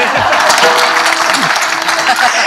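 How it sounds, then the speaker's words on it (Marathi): Audience at a Marathi kirtan performance clapping in a dense, steady burst of applause that holds loud throughout, with a murmur of crowd voices underneath. "म्हणजे तुम्ही टाळी वाजली म्हणजे मला कळतं,"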